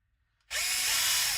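A power drill kicks in abruptly after a quiet moment, its high whining motor running steadily and loud up close as it drives screws.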